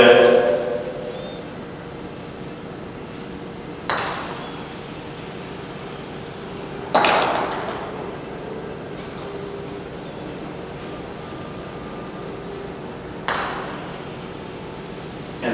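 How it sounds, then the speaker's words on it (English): A golf ball rolling on an indoor putting green and knocking into the bumper stops, several sharp knocks spaced seconds apart over a faint steady hiss, with a voice talking in between. "you can see the bumper stops the ball"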